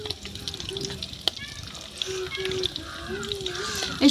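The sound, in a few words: chili peppers frying in a pan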